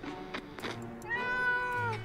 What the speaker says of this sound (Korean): 고양이가 냉장고 안으로 들어가고 말았다